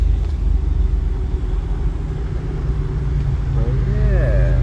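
A Pontiac Fiero with a swapped 3.4 engine rolls slowly through a parking lot, its low steady engine rumble continuous inside the cabin, with a voice speaking over it.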